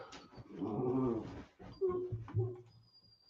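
Dogs growl and whimper close by, in a short run of low rumbling growls followed by whiny, higher-pitched whimpers, with a brief pause in the middle.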